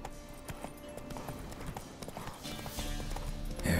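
Horse hooves in the video game The Witcher III clip-clop at a steady trotting pace, moderately close, with game ambience behind and a brief louder swell at the end.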